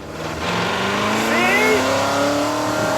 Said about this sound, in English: the straight pipe exhaust is loud, especially when you press the throttle